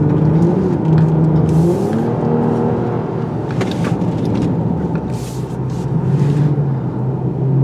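A 2022 Toyota Camry TRD is driven hard through corners, its engine droning and rising and falling with throttle changes, heard steadily from inside the cabin with road and tyre noise.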